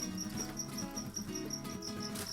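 Crickets kept in a wooden breeding box about 50 by 100 cm lined with dry leaves and egg trays, chirping in quick steady pulses with a busy rustling patter underneath, close and continuous.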